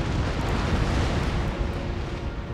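Naval cannon broadsides in the Empire Total War game, a continuous heavy rumble of overlapping booms from ships firing on both sides, loud and dense throughout with no pauses.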